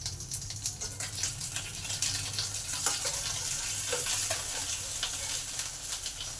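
Rohu or catla fish pieces frying in hot oil in a pan, a steady close sizzle scattered with sharp pops and crackles, with soft clinks of handling and no talking.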